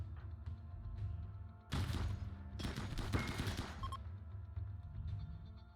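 Defensive turrets in the video game Rimworld fire in dense rapid bursts, a loud rattling fusillade in two clusters over a low background hum, with no talk.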